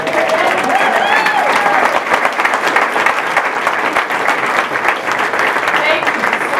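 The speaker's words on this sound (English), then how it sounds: "So let's give it up for Evanston." Audience at the Evanston Chamber of Commerce 2014 annual meeting breaks into loud, sustained applause, a dense wash of many clapping hands filling the room without a break.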